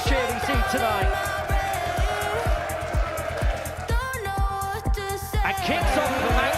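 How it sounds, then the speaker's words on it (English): A darts crowd cheering loudly at a live event, with sustained roaring and whooping that swells and falls under a commentator's voice. "that might well be the biggest cheer we see tonight"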